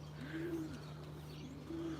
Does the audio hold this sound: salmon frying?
no